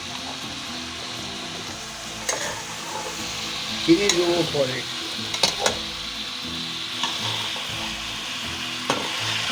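Shredded cabbage fries with salt in a pan, a close, steady sizzle broken by several scraping stirs and clacks of a utensil, while someone speaks briefly over it.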